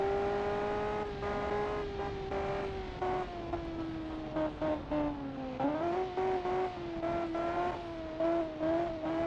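Race car engine in a prototype sportscar racing video game, its high whining tone sliding down and up through gear changes, with rhythmic pulsing revs later on, steady and close with no voices.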